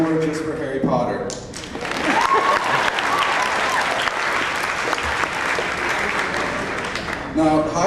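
Graduation crowd clapping steadily, a thick wash of applause from many hands with a few whoops, framed by someone speaking into a microphone at the start and finish.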